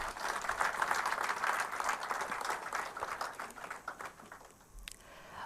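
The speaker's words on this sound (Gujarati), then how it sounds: "તો એ માટે સાહેબ માટે જોરદાર તાળીઓ થઈ જાય" A lecture-hall audience applauds a guest speaker at a book talk, sustained clapping from many hands that swells and then gradually thins out.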